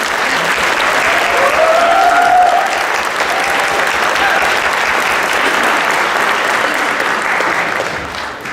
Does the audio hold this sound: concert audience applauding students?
yes